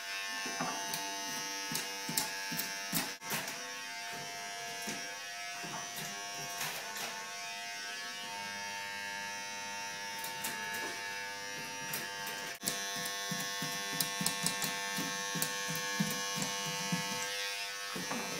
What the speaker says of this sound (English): I'm just feeding the hair into the cutters because it's much longer than normal.